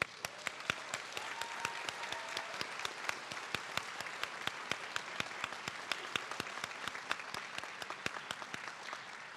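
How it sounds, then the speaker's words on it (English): An audience at an adult education graduation ceremony in Norwich bursts into sustained, enthusiastic applause, dense crowd clapping with sharp individual claps standing out, continuing steadily for the whole stretch. "I really think she needs a thunderous round of applause"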